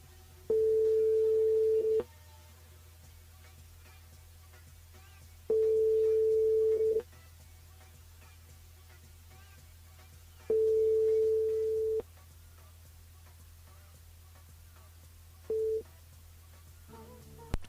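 Phone line busy tone heard alone with no talk: three long, steady beeps of about one and a half seconds at regular intervals, a short fourth beep starting at the end, over a low constant hum while the call goes unanswered.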